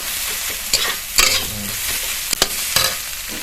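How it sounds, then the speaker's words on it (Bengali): Eggs fry in a hot pan with spice masala, a constant sizzle broken by several sharp scraping clatters as a utensil stirs them, with no talking. "ডিমগুলো ভাজা ভাজা করে নেবো।"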